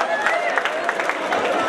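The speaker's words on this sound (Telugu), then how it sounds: "గట్టిగా చప్పట్లు అందరూ కలిసి ఒకసారి." Crowd applause and cheering from an audience at a college freshers party, a dense, steady wash of clapping with scattered louder bursts and background voices throughout.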